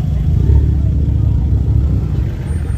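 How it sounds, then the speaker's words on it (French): A Volkswagen Golf 6 with an aftermarket exhaust line at an outdoor car and motorcycle meet gives a loud, steady low engine rumble lasting the whole moment, with slight swells in level as it idles or moves close by. "Magnifique bruit ce Golf 6."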